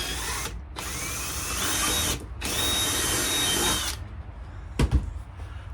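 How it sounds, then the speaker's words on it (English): Power drill boring a hole through the centre of a thick plastic piece while fitting a diesel heater: two loud, steady whirring runs close by with a short pause between them, then a few faint clunks afterward and no talking. "all I do is drill a hole right in the centre of"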